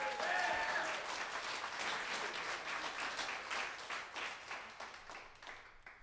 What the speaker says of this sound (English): Y'all give another round of applause for our great house band